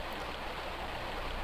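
Steady flowing water in the video game Tomb Raider Remastered, at the City of Vilcabamba level, a continuous broadband rush with no breaks or voices.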